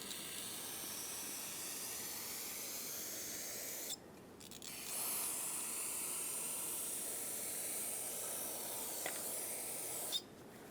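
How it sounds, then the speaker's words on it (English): Brake parts cleaner hisses from an aerosol can in a steady, continuous spray over the engine of a 3.6L Dodge Grand Caravan during a valve cover gasket job, with brief pauses between long bursts. "So I'm just going to spray this off with brake parts cleaner."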